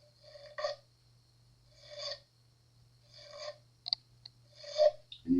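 A metal file rasps across a fret on an Epiphone Les Paul guitar to remove a burr: four slow, separate strokes spaced about a second and a half apart, close and dry, alone.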